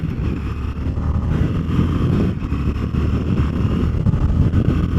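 Harley-Davidson Street 750 motorcycle with a 750cc engine cruising at speed on a highway, a steady loud low engine drone heavily mixed with wind rush throughout, no talking.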